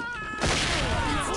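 A shotgun blast breaches a locked door in SWAT 4, a sudden loud crash after a short quiet lead-in, followed by a ringing, cluttered tail of debris and reverberation.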